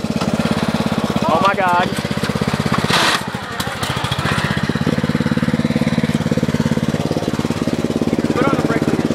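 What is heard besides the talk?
riding lawn mower engine driving through mud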